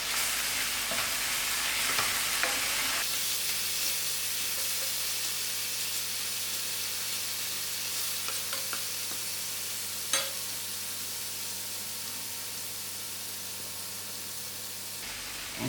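Chopped ginger, garlic and green chilies fry in a hot pan of oil with softened onions for chicken livers, giving a steady, loud, close sizzle and hiss. Occasional scrapes of a stirring spoon break through, with no talk.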